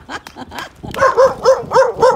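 A rescue dog barks excitedly in a backyard, a few quick yips followed by a run of louder, rising barks, close by with no talking.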